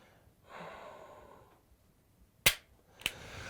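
A dry-fired pistol trigger gives two sharp, close clicks about half a second apart, preceded by soft breathing and faint handling noise.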